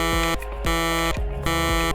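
A synthesized chiptune effect from a TIC-80 fantasy-console SFX editor plays alone: harsh buzzy tones in three repeated bursts with brief gaps, loud and close, with no voices.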